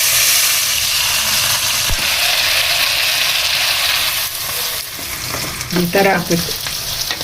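Mustard seeds frying in plenty of hot oil in a pan, a dense continuous sizzle and crackle throughout, with a brief spoken line near the end.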